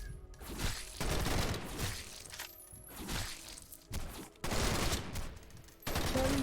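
Gunfire in the Roblox game Decaying Winter, repeated long bursts of rapid automatic shots separated by short pauses, loud and harsh with crackling impacts.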